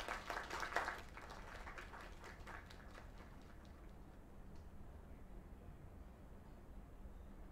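Audience applause after a live performance at an informal gathering with drinks: a short burst of clapping that is strongest at the start, then thins and fades within a few seconds into steady room noise.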